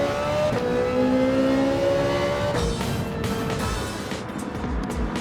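A McLaren GT3 race car in Gran Turismo 7 revs hard, its engine note climbing and shifting in loud, continuous waves with a brief gear-change dip midway.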